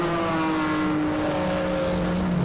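Toyota and VW Golf race cars sweep past at a 2022 MSA regional Extreme Festival round, their engines a close, continuous droning whine that shifts in pitch as they go by.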